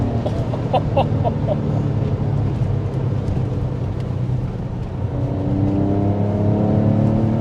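A Porsche 911 Carrera 996 engine hums and builds as the car accelerates, heard from inside over a continuous road rumble, the note rising and strengthening in the final seconds with no talking.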